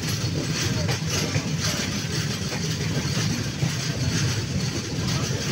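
Kokankanya Express running on the Konkan Railway, heard from inside as a steady rolling rumble with faint rhythmic clatter, and a voice speaking over it.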